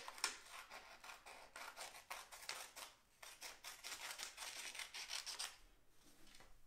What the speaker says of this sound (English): we can just use our scissors or ask our family members to help us use the scissors to cut off that rectangular tail, just like this.